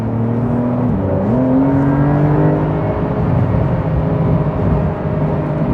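A Porsche 911 engine pulls along twisty roads, loud and close from inside the car, its pitch climbing and shifting as it revs, then holding a strong steady drone with road noise underneath.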